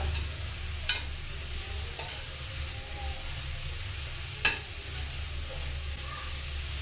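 A spoon scrapes and stirs through thick carrot halwa made with milk in a pan, with a soft sizzle throughout and a few sharper clinks of metal.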